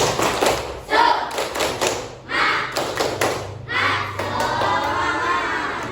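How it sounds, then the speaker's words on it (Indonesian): A classroom of children doing a rhythmic spirit clap, loud bursts of clapping and shouting in repeated patterns with thuds, close and lively throughout. "Coba tepuk semangat."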